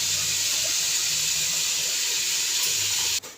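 Water poured into a pot of country-style chicken sambar, a loud steady rushing stream, close and continuous, ending abruptly.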